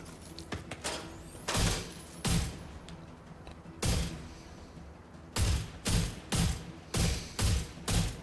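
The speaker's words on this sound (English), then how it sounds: "Oh, the explosion at the back there." Explosions and gunfire in The Division 2 sound as a series of heavy booms and sharp blasts, some spaced apart early on, then a rapid run of loud bursts near the end, with game ambience between.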